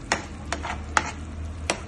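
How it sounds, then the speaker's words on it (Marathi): A spoon works through a spice paste with salt while making sandge, giving a handful of short, sharp scraping strokes against the pan close to the mic. A faint sizzle sits underneath. "या पेस्टला थोडं हलवा."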